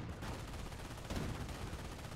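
Machine gun fire in a Company of Heroes 1v1 match between US and Wehrmacht forces, a dense, steady rattle of rapid shots with a louder burst partway through, mixed into battle noise.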